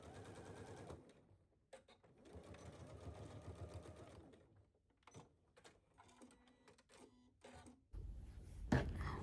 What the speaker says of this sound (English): give it a press and stitch a narrow hem